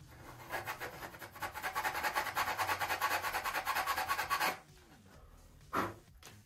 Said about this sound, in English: So I'm just sanding that tail wheel platform a little bit